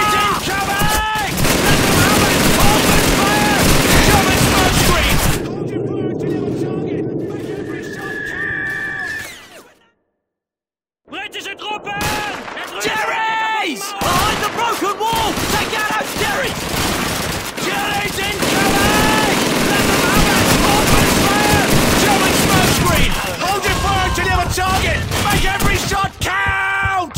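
Rapid gunfire and machine-gun bursts from the World War II shooter game Call of Duty 2 rattle almost continuously, loud and dense, with a brief silent gap midway and shouted voices over the battle.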